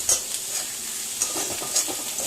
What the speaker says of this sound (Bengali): আমার মাছটা ভাজা ভাজা হয়ে এসছে।